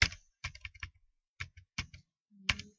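Computer keyboard typing comes in short bursts of quick clicky keystrokes separated by silent pauses, close and fairly quiet, with a firmer final key press near the end.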